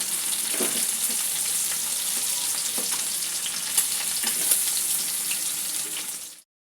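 Potatoes and pointed gourd fry in hot oil in which fish was just fried, giving a continuous bubbling sizzle with light stirring clicks that cuts off abruptly near the end.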